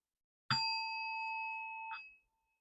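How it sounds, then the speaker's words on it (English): A single bell struck once in a quiet room to clear the space, a sharp metallic strike that rings out with a clear sustained tone and fades away after about a second and a half. "I like to go ahead and ring the bell, clear the space"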